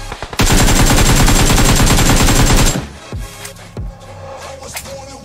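In the video game PUBG, a loud, rapid burst of automatic gunfire hammers continuously for over two seconds. Scattered fainter in-game shots and thuds follow.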